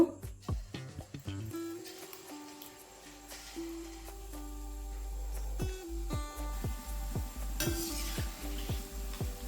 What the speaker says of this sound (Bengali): পরেরগুলোও একইভাবে ভেজে নেব